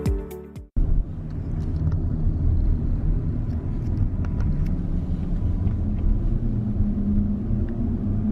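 A red Tesla driving on an afternoon road, a steady low rumble of tyre and road noise inside the cabin, continuous and fairly loud after a short opening burst of other sound.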